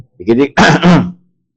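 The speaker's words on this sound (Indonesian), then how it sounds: "Jangan terlalu banyak berdehem." A voice clears its throat loudly up close, with a short guttural burst followed by a longer, rougher rasp.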